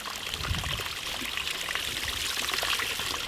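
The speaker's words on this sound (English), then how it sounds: "But the water is just flowing down off here" Water pours and trickles steadily down rock into a small quarry pool, a continuous close splashing stream with no voices.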